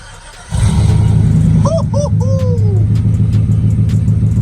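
A car engine starts with a sudden loud burst and settles into a deep, throaty idle rumble through a big exhaust, steady and close.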